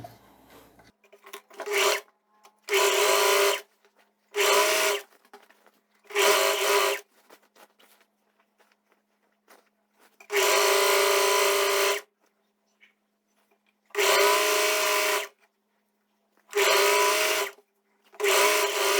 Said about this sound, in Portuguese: eu já vou costurar aqui as laterais